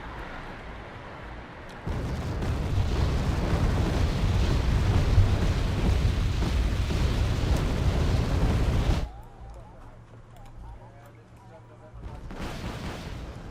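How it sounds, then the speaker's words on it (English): An artillery barrage in the Cold War strategy game Wargame AirLand Battle: dense, rumbling volleys of heavy fire and blasts pound continuously for several seconds, then cut off to a quieter hum before distant firing swells back in. "Artillery being fired."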